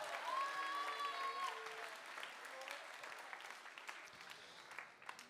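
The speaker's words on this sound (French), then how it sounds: "On peut les applaudir" A voice speaks briefly at the start, then a hall audience at a religious youth gathering gives soft, fairly distant applause that thins out over the following seconds.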